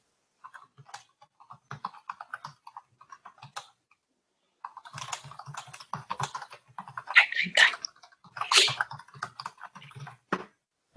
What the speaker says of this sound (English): it just sounds like you typing